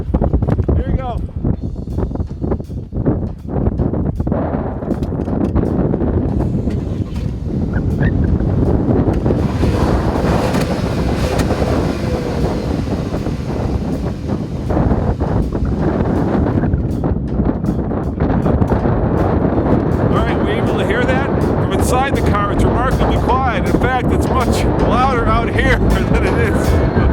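Strong gusty wind buffets the microphone outdoors, a loud, continuous rumbling roar that swells and surges throughout and buries the other sounds, with a muffled voice partly beneath it.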